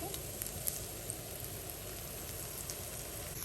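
Coconut oil sizzles in a hot pan of clams for a Kerala clam fry, a steady close crackle and hiss with a few sharp pops.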